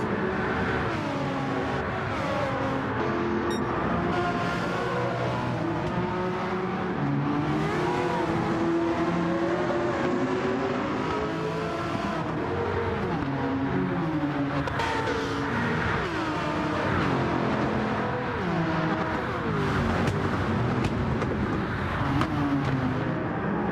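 Group C prototype race cars lapping Monza in Gran Turismo 7, a steady dense roar of several engines revving and shifting through a chaotic opening lap, loud and continuous with no voices.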